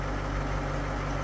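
A boat's starboard engine runs just after a new starter was fitted, a steady close idling rumble with an even mechanical hum and no voices.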